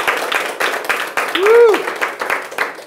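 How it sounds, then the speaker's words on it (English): Care-facility staff at an award ceremony clap and cheer together, with one loud whoop rising over the applause, which comes in bursts and fades. "Give yourselves a round of applause."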